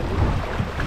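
A log flume boat on a fast-moving ride at an amusement park, with a brief, loud, continuous rush of water and wind noise.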